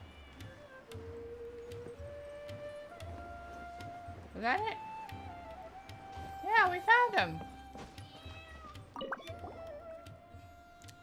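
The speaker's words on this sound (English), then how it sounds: "I think the meowing's getting closer" Several distinct meows from a cat in the video game Genshin Impact sound loud and close, rising and falling, mixed with game music tones and excited voices talking.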